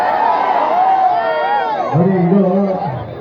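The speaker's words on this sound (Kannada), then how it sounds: "ಈ ಸೌಂಡ್ ಬೇಕು ಕಲಾವಿದರಿಗೆ ಎಲ್ಲಿ ತನಕ ಚಪ್ಪಾಳೆ ಕೂಗು ಸೀಳೆ ಇರುತ್ತೆ" Crowd at a youth awareness event in Kadur cheering and shouting, a sustained loud roar of many voices with whoops, as someone speaks briefly over the noise.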